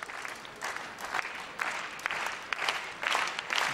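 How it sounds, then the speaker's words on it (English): Crowd at a men's doubles final breaking into applause and cheers, a broad, distant roar of clapping that swells in waves and builds toward the end. "the crowd, for the very first time in this men's doubles final, getting rather excited"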